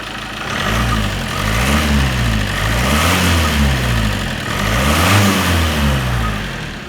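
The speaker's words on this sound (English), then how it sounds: "Let me just give it a rev." A Ford Mondeo Mk5 with a 2-litre diesel engine is revved repeatedly from idle, its rumbling note rising and falling through several throttle blips, loud and close with no voices.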